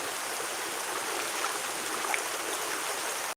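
A river running low in the dry season spills over exposed stones, giving a steady, close, broadband rushing and trickling that stays unbroken throughout with no voices.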